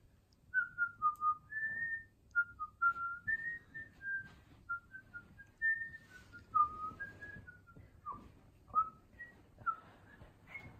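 Someone whistles the Detective Conan theme alone, a lilting run of short rising and falling notes with brief pauses, close and clear.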